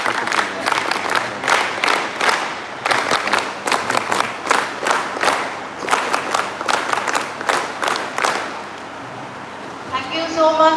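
Audience at an NSS West Bengal official event claps in rhythmic bursts, loud and fairly close, with some cheering mixed in, ending with a voice speaking at the close.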